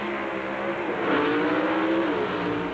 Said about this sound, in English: When both cars are ready, you'll hear the RPMs begin to mount.